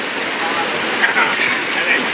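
Steady rain drumming on a tarpaulin shelter in a village while food is cooked beneath it, a dense continuous patter with slightly louder drops now and then.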